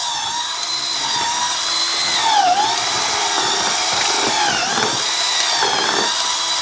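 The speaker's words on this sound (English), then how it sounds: "all I've got to do now is just mix it with a drill and an auger" Power drill with an auger mixing homemade garden topsoil from decomposed weeds in a 5-gallon bucket, a steady whining motor with grinding, scraping churn throughout, loud and close.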